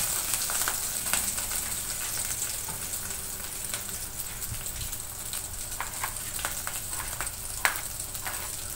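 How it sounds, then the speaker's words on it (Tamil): Chopped onion, green chilies and curry leaves hitting hot oil after mustard seeds have popped, giving a steady, dense sizzle throughout with occasional sharp crackles, in a village-style kitchen. "கடுகு பொரிஞ்சதுக்கப்புறம் கட் பண்ணி வச்சுருந்த வெங்காயம் பச்சை மிளகாய் கருவேப்பிலை போட்டுக்கலாங்க."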